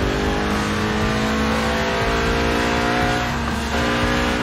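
A Lotus Elise, a 90s mid-engined two-seat rear-wheel-drive roadster, drives in Forza Horizon 4, its engine holding a steady loud drone with rising harmonic tones and faint tire noise, continuous throughout with no talking.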